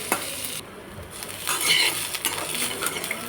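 Chilli, peanuts, onion, garlic, coconut and ginger sauté in oil for ridge gourd chutney, a steady close sizzle broken by the scrape and clink of a spoon stirring against the pan.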